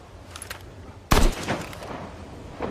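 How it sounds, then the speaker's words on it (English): A single sharp sniper gunshot in the post-apocalyptic PC MMO Nether, a sudden loud crack close by that decays quickly into quieter game ambience. "Oh, Will. I just got sniped"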